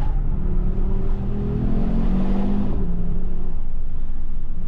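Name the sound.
Audi car accelerating hard with tires straining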